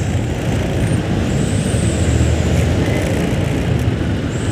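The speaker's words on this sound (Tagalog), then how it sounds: "Trucks and trailers." Dense road traffic with trucks and trailers rolling by, a loud steady roar of engines and tyres with a thin hiss of air brakes, heard close from a moving motor scooter, no talk.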